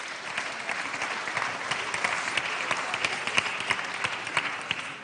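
An audience applauds at a national awards ceremony after a trophy is presented, a dense, continuous round of clapping with distinct sharp claps standing out, moderately loud throughout.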